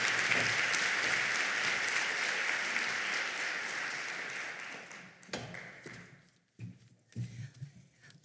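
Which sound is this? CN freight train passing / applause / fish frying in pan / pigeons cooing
applause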